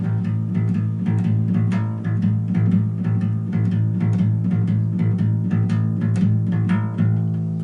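A swung twelve-bar blues instrumental riff with a lilting rhythm, steady repeated notes bouncing along at a trotting pace, no voices.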